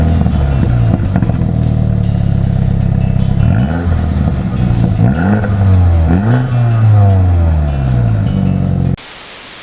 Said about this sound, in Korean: 이게 시동 걸었을 때 소리가 굉장히 좋거든요.